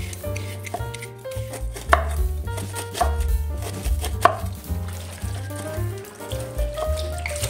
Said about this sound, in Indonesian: Dan pepayanya saya potong-potong dulu ya, nanti biar lebih mudah untuk menyerutnya.